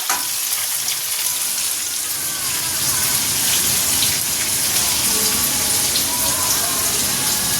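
Potato and jackfruit frying in oil in a pan, a loud, dense crackling sizzle that holds steady throughout, close by and alone.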